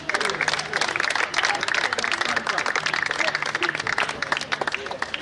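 A crowd at a school foundation event in a college hall applauds students, with dense continuous clapping under a loud voice, steady throughout.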